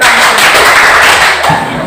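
A classroom of students claps together in a rhythm game during a mathematics lesson, a brief, loud burst of clapping lasting under two seconds.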